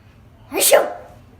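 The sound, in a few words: sneeze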